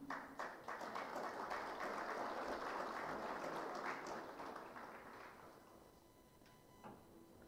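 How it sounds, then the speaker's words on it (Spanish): An audience at a university ceremony for new elected authorities applauds a rector, a sustained crowd clapping that holds for several seconds and then fades away toward the end, heard somewhat distant. "Lo recibimos con fuerte voto de aplausos"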